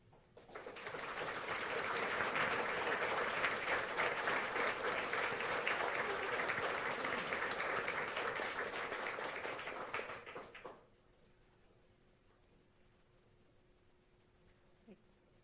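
A conference audience breaks into sustained applause that swells quickly, holds for about ten seconds, then stops abruptly, leaving a quiet room with a faint hum.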